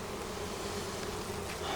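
Honey bees buzz steadily at an open beehive box full of honey, a dense close hum holding at an even level throughout with no voices.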